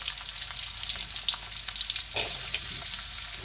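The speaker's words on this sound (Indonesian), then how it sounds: "Kita tumis sampai matang ya, bawang putih dan bawang merahnya." Sliced garlic and shallots sautéing in oil, a soft continuous sizzle with light crackling and one brief stirring scrape, close and fairly quiet, no voices.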